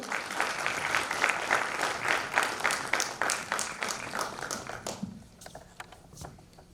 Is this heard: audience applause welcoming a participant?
yes